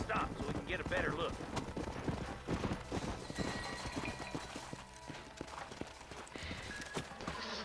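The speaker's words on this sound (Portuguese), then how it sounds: "O cavalo não consegue correr nem por 10 segundos" Horse hooves clip-clopping at a gallop in Red Dead Redemption, a steady rapid drumming of hoofbeats running through the whole stretch under game sounds and a talking voice, with a brief whinny-like cry early on.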